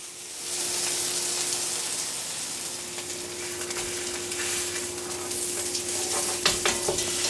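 Lamb blade shoulder chops sear in a cast iron pan, giving a steady, dense sizzle that holds for several seconds with no talking, ending with a few brief crackles and pops.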